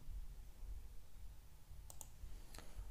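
A computer mouse clicks a download option on a web page: three quiet, sharp clicks close together near the end, over a faint steady hiss.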